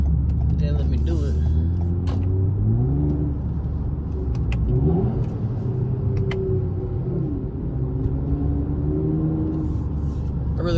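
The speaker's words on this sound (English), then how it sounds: "y'all heard pretty much the tone of the car through that tunnel" A Toyota Camry TRD with about 100,000 miles accelerates through a road tunnel, its engine droning and rising in pitch under reverberant rumble, with a person talking over it throughout.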